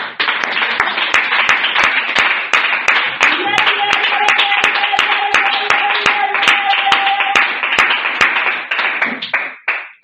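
A church congregation claps in steady rhythm in praise of the Lord, many hands striking together in a loud, regular beat that fills the hall, with a sustained tone held beneath it before the clapping trails off at the end.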